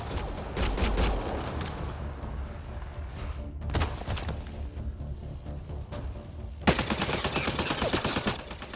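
Gunfire in a Mass Effect Andromeda Xbox One X firefight: dense volleys of sharp shots and thumps, with a louder rapid-fire burst near the end, and no clear voices over it.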